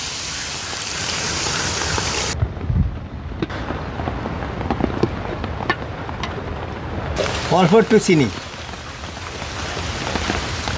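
Steady rain pours outside during home cooking of a whole-chicken musallam with spices, yogurt and milk; the dense, even patter runs throughout while someone talks over it, with a brief clatter near the end.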